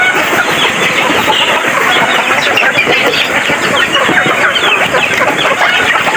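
Several chickens cluck continuously and busily close by, a dense chorus of short calls with steady background noise throughout.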